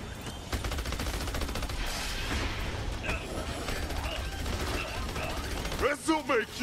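Rapid gunfire bursts in the Battleborn video game, Incursion mode on the Echelon map, crackle steadily through a dense, busy battle mix with sharp shots near the end, while someone talks over the action.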